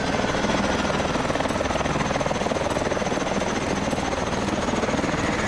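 Helicopter in the Call of Duty: Advanced Warfare campaign churns with a loud, continuous rotor thump and engine roar, steady and close throughout.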